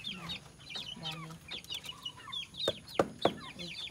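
Native chickens kept at a family home cluck in short repeated calls, close by, with some sharper squawks near the end and faint background voices.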